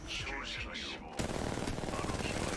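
Gunfire in the mobile game Apex Legends Mobile, a dense burst of rapid shots that starts abruptly partway through after a stretch of game sound, with talk mixed in.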